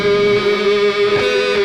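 A guitar runs through the Pumpkin Spice Latte saturator plugin set to tube console style saturation, giving a single held note that is loud, buzzy and rich in harmonics, heard alone.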